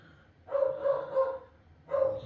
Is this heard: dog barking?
yes